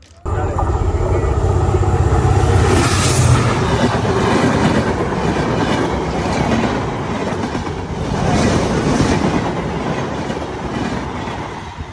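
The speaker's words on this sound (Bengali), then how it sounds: "এখনই কিন্তু ট্রেনটা আমাদের মধ্যে চলে আসবে" A train approaches and passes on a railway track in Narail, Bangladesh, a loud, continuous rumble with rhythmic wheel clatter building and swelling up close, while people talk beneath it.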